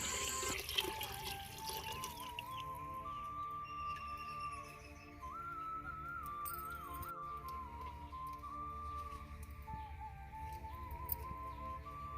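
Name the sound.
water poured into clay pot for cooking fish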